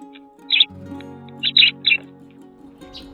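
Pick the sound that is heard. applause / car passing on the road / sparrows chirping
sparrows chirping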